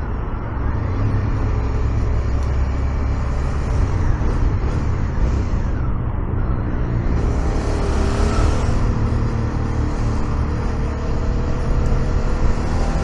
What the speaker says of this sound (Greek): Παίζει να είναι η πρώτη φορά που το ζω αυτή την κίνηση με μοτοσυκλέτα.